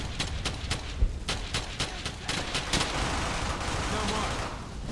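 Gunfire in the World War II shooter game Brothers In Arms: Hell's Highway: rapid, repeated sharp shots in quick bursts, loud and close at first, thickening into a dense, continuous rattle of firing.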